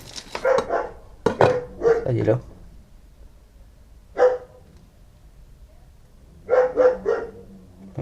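A dog barks in several short bursts indoors at home, clustered near the start, again midway and at the end, while a person speaks over part of it.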